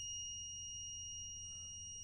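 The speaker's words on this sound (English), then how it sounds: "as I am shorting this, the sound is coming from the multimeter" A multimeter in continuity mode gives a steady, unbroken high-pitched beep as the two ends of a cable are shorted together, holding constant and fairly faint against a low room hum.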